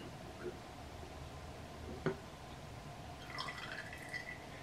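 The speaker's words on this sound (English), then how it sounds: "Pour it right into the jar." Vegetable oil is poured into a jar for a homemade garden insect spray, a faint liquid trickle rising in pitch as the jar fills, heard over steady background noise.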